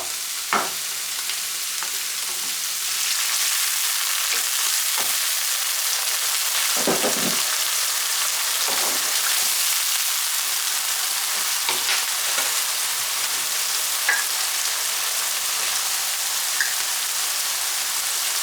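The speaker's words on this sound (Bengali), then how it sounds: "আর পেঁয়াজটাকে আমি সব সময় এরকম সোনালি করে ভাজি" Onions frying golden in oil for chichinga bhaji give a steady, close sizzle, with occasional scrapes and clicks of stirring over the continuous crackle, and no voices.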